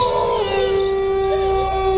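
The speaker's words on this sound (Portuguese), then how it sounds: "E de repente ele soltava aquele uivo" A long, eerie howl from a giant dog in a dramatized horror story, a sustained wavering tone that bends slightly over about two seconds above a low rumbling background.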